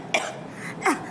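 A voice imitates the cough of a rich person: two short, throaty coughs or throat-clears about a second apart, close and fairly quiet, with no speech around them.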